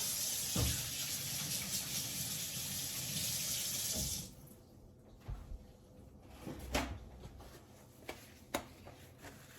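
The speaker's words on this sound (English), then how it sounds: "So let's wash our hands real quick. A little bit of soap." Water runs steadily from a kitchen tap while hands are washed with soap, a loud continuous splash for about four seconds, then quieter dripping, rinsing and small clatters near the sink.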